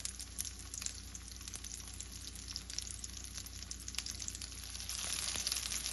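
Flounder fillets fry in a hot pan, giving a soft continuous sizzle with faint pops that grows slightly louder toward the end.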